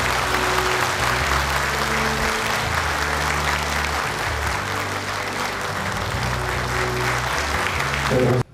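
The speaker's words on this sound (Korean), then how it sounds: "다시 한번 큰 박수 부탁드리겠습니다." A crowd claps steadily and loudly throughout at a county governor's inauguration ceremony in Korea, with a low hum of voices and music beneath the dense applause.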